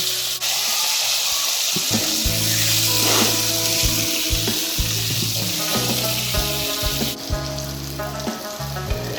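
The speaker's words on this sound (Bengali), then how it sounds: "কড়াই গরম করে সামান্য তেল দিয়ে বিরিয়ানির জন্য যে আলুটা রেডি করে রাখছি তা ভেজে হালকা লাল লাল করে ভেজে নেব" Potatoes fry in a little oil in a hot wok for kacchi mutton biryani, a loud continuous close sizzle with occasional stirring scrapes and a humming background, no one speaking.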